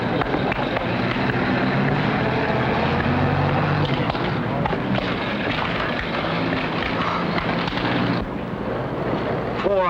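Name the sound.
airplane engine in a 1950 film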